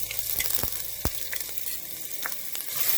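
Ginger garlic paste sautéing with whole spices in a pan for egg chilli curry, a close bright sizzle with a few sharp taps of the spoon, swelling slightly louder at the end.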